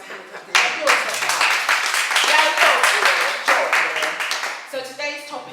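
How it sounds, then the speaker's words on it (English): An audience at a book-writing session claps and applauds for several seconds, a dense, close patter of hands that starts abruptly and tapers off toward the end. "Give yourselves a hand clap."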